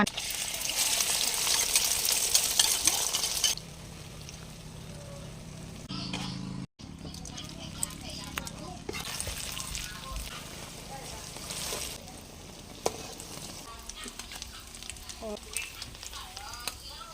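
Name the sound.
egg frying in oil in an electric pot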